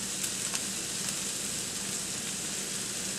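Broccoli stir-fry with sauce sizzles in a pan, a steady close hiss of frying that continues evenly throughout with a few faint clicks and no talking.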